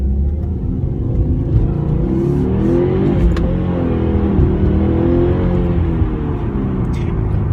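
2018 Subaru WRX boxer engine driving on the road, a steady low rumbling drone with slight rises in revs, heard from inside the car, continuous and fairly loud.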